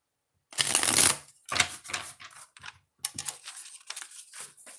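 Tarot oracle cards shuffled in quick riffling bursts: one long loud shuffle, then several shorter broken runs, close up and crisp with no talking.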